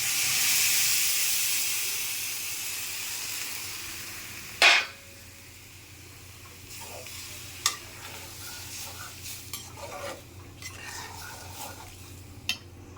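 Water poured into a pan of mixed vegetables and soybean chunks, a sharp hissing burst of steam and sizzle, then quieter bubbling with a few light stirring clinks against the pan.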